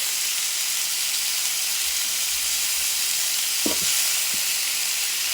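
Chunks of bison or beef frying in a pan with cilantro added, giving a steady close sizzle throughout with a few brief stirring clatters near the middle.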